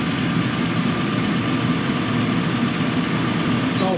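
A 2007 Chrysler Pacifica engine idles steadily with a smooth, even low rumble and no pauses, close by and continuous throughout.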